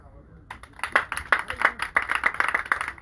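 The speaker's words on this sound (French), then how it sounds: "Et ça s'applaudit." Crowd applause at a political gathering in Côte d'Ivoire, a short burst of clapping that starts abruptly and builds into dense rapid hand claps.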